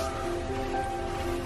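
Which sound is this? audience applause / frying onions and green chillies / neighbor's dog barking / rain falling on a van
rain falling on a van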